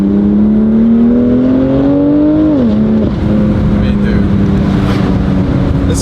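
BMW F87 M2 Competition with a Valvetronic Designs exhaust, its loud engine note climbing steadily, dipping sharply as if shifting, then droning on at a steady pitch, close and continuous.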